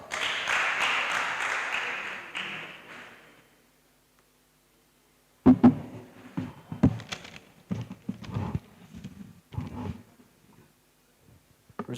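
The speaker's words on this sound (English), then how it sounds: "Let's clap for her as she comes." An audience claps for a speaker walking up to the stage at a news anchoring semi-final. A broad steady burst of applause fades out, and a stretch of scattered knocks and shuffling follows.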